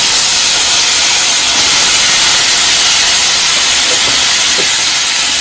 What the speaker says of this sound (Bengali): টমেটো গুলো দিয়ে দেবো।